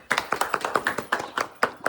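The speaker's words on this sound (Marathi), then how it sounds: "टाळ्या वाजव." Close, sharp hand claps at a song shoot linked to a Marathi wedding gathering, about a dozen slightly uneven beats in quick succession, heard alone.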